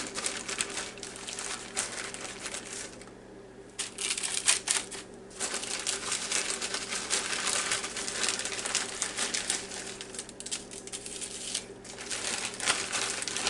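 Parchment paper crinkles and rustles up close as breaded ribeye chops are laid on it in a kitchen, irregular crackly handling noises with brief pauses and no talking.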